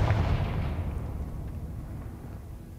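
Confringo spell blast in Hogwarts Legacy, a single loud explosive burst at the start that rumbles and fades away over a few seconds.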